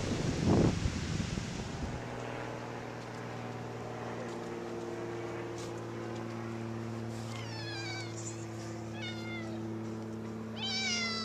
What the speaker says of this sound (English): we have what we call beach cats